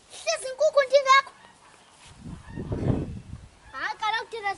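Fowl honk and squawk loudly up close in two bursts, the second arriving after a stretch of low rumbling noise.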